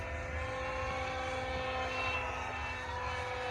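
An RMRC Anaconda RC airplane banks into a left turn at just under half throttle, giving a steady, even motor drone with a constant tone that holds at one level throughout.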